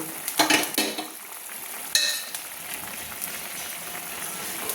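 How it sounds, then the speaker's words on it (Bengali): Bata fish pieces go one by one into a simmering potato and eggplant curry, with a couple of sharp sizzling splashes followed by a steady, soft bubbling hiss. "আমি এক এক করে বাটা মাছগুলো আমি রান্না করার জন্য আলু বেগুন দিয়ে বাটা মাছের ঝোল রান্না করার জন্য আমি এক এক করে বাটা মাছগুলো ছেড়ে দিচ্ছি"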